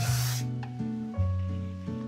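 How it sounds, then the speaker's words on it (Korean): Hairspray can spraying onto a woman's fringe in one loud, close hiss that cuts off after about half a second, followed by quiet handling sounds and low hum. "이 스프레이를 뿌려주도록 할 거예요"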